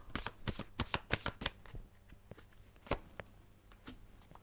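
Tarot cards are shuffled close up in a quiet room, giving a quick run of crisp riffling slaps followed by a few scattered, softer card taps. No one speaks.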